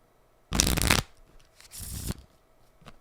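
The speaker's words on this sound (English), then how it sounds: "One more shuffle for the people at home." A deck of playing cards is shuffled twice in quick succession, a loud, close riffle followed by a shorter, softer one and a faint final tap.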